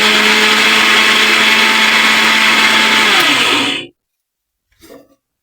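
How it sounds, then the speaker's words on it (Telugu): A mixer grinder with dosa batter runs loudly with a steady whir for nearly four seconds, winds down and stops, followed by a brief faint clatter. "మనం మిక్సీ వేసుకోవచ్చండి"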